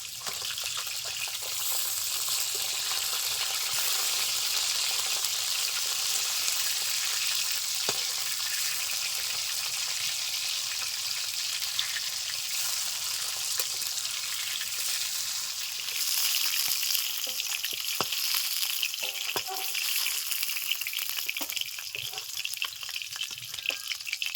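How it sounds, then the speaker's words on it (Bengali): Fish fries in oil over medium heat in a pan for a Bengali tel jhal, producing a continuous dense, hissing sizzle that stays loud and close throughout, with occasional faint clinks. "মিডিয়াম আছে আস্তে আস্তে মাছগুলো ভেজে নেবে"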